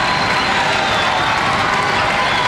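A basketball arena crowd cheers and applauds at a college game, SIU against Drake, a dense, loud, continuous roar of voices and clapping filling the whole moment.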